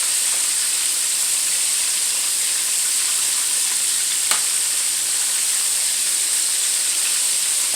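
Mustard chicken wings fry in a pan with a loud, steady sizzle and hiss and one brief sharper crackle partway through.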